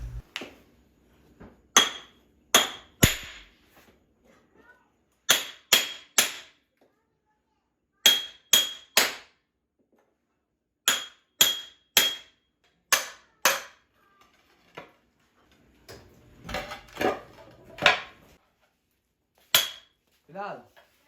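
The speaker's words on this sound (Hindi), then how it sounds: "टाइलों का ये है कि अब इनको भी उतारना है ऑब्वियसली, लेकिन इनको उतारना क्योंकि इतना आसान काम नहीं है" Old kitchen wall tiles being hammered off during a kitchen remodel: sharp, loud clanking strikes in irregular bursts of two to four blows with short pauses between, ending with a scrape and a final hit.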